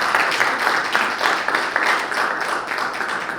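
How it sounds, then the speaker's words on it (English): An audience at a human rights and U.S. foreign policy panel applauds steadily, a dense, even wash of clapping that stays loud and sustained with no voices over it. "I'd like for everyone here to give him a round of applause for doing this work today."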